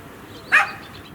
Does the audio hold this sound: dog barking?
yes